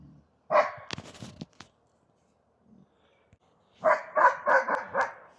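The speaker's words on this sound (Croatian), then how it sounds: "Tu neka stoji, neka laje." A young hunting dog in training on a tricolour pig barks in two bursts, a short run of barks, then a pause and a rapid volley of several close, loud barks.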